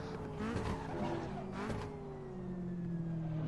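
Engine of a light track day car in a sim racing game whines at close range, rising and falling through gears with brief tire squeal, fairly quiet and uninterrupted by talk.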